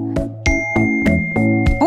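A mobile phone text message notification chime rings out clearly, a series of about five bright, tonal dings in quick succession, loud and close.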